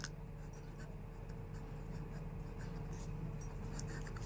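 A pen writes out a maths solution on paper with a faint, steady scratching, heard alone over a constant low background hum.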